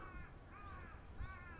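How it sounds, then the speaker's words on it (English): A crow caws along the Sumida River in Tokyo in the morning, three harsh calls spaced apart, faint and somewhat distant over low outdoor ambience. "bird."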